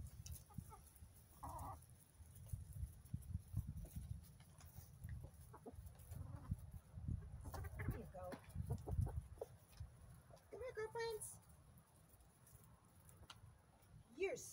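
Backyard hens cluck and murmur while pecking at scattered black soldier fly larvae treats, with soft intermittent clucks and short calls close by over a steady low rumble, and occasional quiet human sounds.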